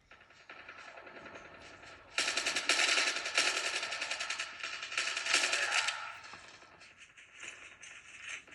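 Sustained automatic gunfire from Call of Duty Mobile played on a Lenovo Tab M8 FHD Android tablet, a dense, loud rattling stream of shots that swells midway and then tapers off, heard alone.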